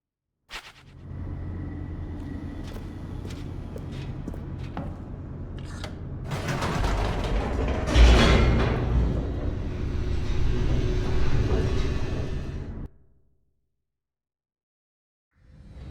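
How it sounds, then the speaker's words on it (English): In The Stanley Parable, an elevator descends with a steady mechanical hum and rumble that swells and grows rougher midway, then cuts out abruptly into silence. "The elevator raced downward, plummeting towards an unknown fate."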